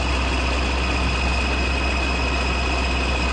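A KOLOS combine harvester engine idles in Farming Simulator 2017, giving a loud, steady, low drone with a constant whine and no variation.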